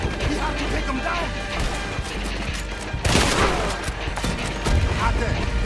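Gunfire in Red Dead Redemption 2 during a chapter 5 battle with a cannon nearby: a dense, continuous crackle of shots and impacts with a heavier burst partway through, loud and close amid the battle din.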